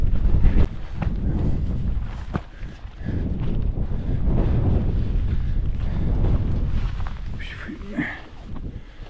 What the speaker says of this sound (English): Windy and claggy.